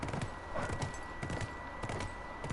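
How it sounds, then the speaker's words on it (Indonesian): Horse hooves clip-clopping in the video game The Last of Us Remastered, a steady, even trot of soft knocks with a faint background bed and no talking. "Naik kuda kemana-mana."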